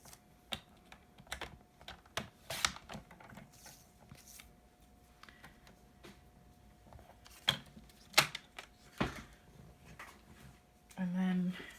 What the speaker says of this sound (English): I'm going to trim this down.